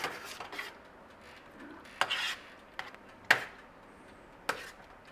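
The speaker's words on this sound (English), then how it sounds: "Make sure you give it a little stir. Stir it away." A sausage sauce being stirred in a pan: soft scraping and swishing under a low simmer, with a few sharper clinks of the utensil against the pan, close and fairly quiet, no talk.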